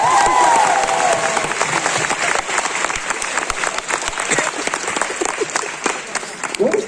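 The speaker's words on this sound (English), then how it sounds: "Round of applause for Stacey." Comic con panel audience gives a round of applause: a large crowd clapping loudly and continuously, with scattered cheers and faint voices mixed in, the clapping thinning slightly near the end.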